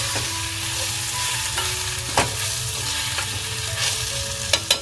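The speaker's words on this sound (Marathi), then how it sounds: "धना पावडर जिरा पावडर गरम मसाला हा आम्ही घरी बनवलेला तो सगळा वगैरे घेतलेला आहे मस्त परतून घेते" Masala with coriander powder, cumin powder and homemade garam masala frying in a pan, a steady loud sizzle with a few sharp stirring knocks near the end, no talk.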